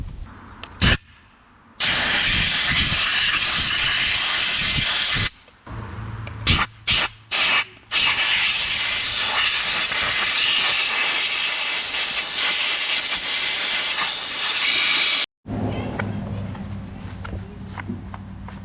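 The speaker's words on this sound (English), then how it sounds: "I'm gonna get the compressed air out, and we'll blow this out with the hose." Compressed air blasts from a hose to blow dirt off a filthy Toro LX427 lawn tractor, loud sustained hissing in long bursts broken by short gaps and quick spurts, ending in a lower mechanical rumble.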